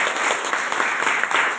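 An audience claps together at a Savitribai Phule birth anniversary gathering, giving a brief, even, fairly loud patter of applause with no speech over it.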